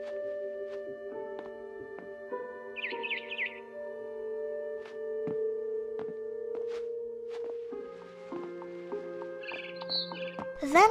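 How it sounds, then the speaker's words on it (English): A barn swallow chirps outside a window in the video game What Remains of Edith Finch, with brief twittering bursts over a quiet, sustained tonal musical background and scattered soft clicks. "Then I heard chirping outside my window."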